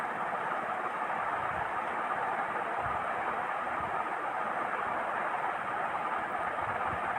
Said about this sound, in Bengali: এবার ভেন্ডিটা দিয়ে দিলাম, দিয়ে 1 থেকে 2 মিনিট এভাবে ভেজে নেব।